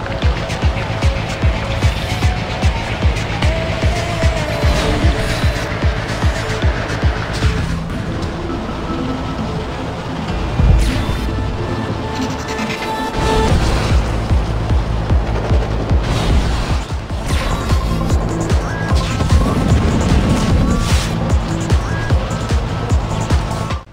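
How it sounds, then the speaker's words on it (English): Futuristic anti-gravity racing craft in Redout on Nintendo Switch roar and whoosh at high speed, with loud sustained engine drone, passing swooshes and occasional impacts, over an upbeat music track. "the sound effects do a good job of adding to the feel of being in a crazy, fast, futuristic racing world"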